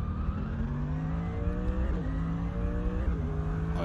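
A Lexus race car in the video game Assetto Corsa accelerates hard, its engine note climbing steadily through short gears with quick drops at each shift, loud and continuous throughout.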